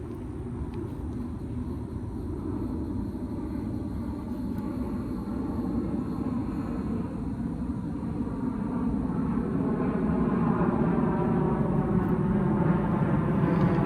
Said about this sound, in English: Plane's pretty low today.